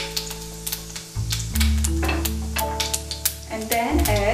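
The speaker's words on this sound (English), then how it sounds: "Now I'm going to add fennel seed, then add kalonji or onion seeds" Fennel seeds and onion seeds sizzle in hot cooking oil in a skillet, a close crackling hiss with scattered pops and a few clinks, under a steady low hum.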